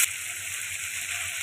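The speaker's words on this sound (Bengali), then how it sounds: "জল দিয়ে ভালো করে কষিয়ে নেব" A ground paste of cumin with fresh green chilli and dried red chilli fries in a pan after a splash of water goes in, making a steady, even hiss that sounds close and stays alone without talk.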